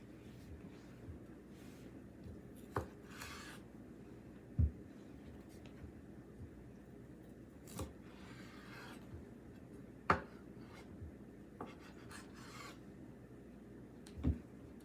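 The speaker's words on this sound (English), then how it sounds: "I'm just going to slice it up and then cut them in half" A knife slices sausage on a cutting board for gumbo, giving faint, quiet cutting scrapes with a few sharp taps of the blade hitting the board, spaced several seconds apart.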